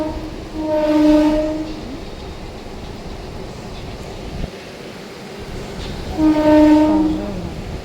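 A passing train sounds two long horn blasts several seconds apart, loud and close, over a continuous rumble of wheels on the rails.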